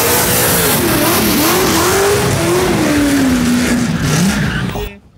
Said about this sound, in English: speaking of very loud V8 noises